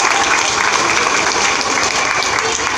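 An audience in a hall at a Kanya Pujan event in Ashok Vihar, Delhi, applauds children with a loud, dense burst of clapping that holds steady from start to finish.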